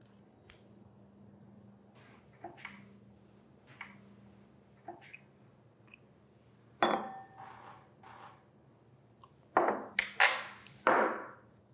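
Sugar and sand are poured into two glasses of warm water, giving faint scattered taps and light clinks, then a few louder grainy rustling bursts of pouring near the end, with quiet background hum.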